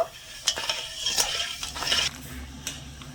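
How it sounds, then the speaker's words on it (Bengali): Sugar, water and three cardamom pods being stirred in a pot to melt the sugar into syrup, with several bright metallic clinks and scrapes of a spoon against the pot over a low hiss. "নিয়েছি 3টে এলাচ, নেড়ে ছেড়ে চিনিটা গলিয়ে নেব।"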